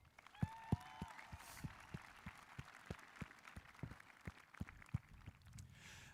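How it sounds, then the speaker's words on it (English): Golf claps from a high school graduation audience, a sparse and steady pattern of individual claps, some close and some further back, with a soft crowd murmur underneath. "Let's get some golf claps for our school's biggest golf fan,"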